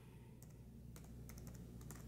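Keys clatter on a computer keyboard hooked up to a Sony PlayStation 4, a few quick clustered taps over a steady low hum, fairly quiet and close.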